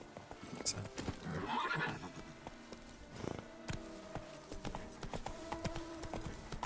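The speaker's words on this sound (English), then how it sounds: "Now I can call my horse" A horse summoned in the video game The Witcher 3 trots up with quick clip-clop hoofbeats, whinnies loudly partway through, then keeps stepping nearby while faint background music plays under it.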